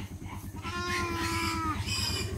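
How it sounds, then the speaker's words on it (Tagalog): A goat bleats loudly and nearby in one long, wavering cry, followed by a shorter second bleat over a rhythmic low thumping background. "Naiyak din yung kambing."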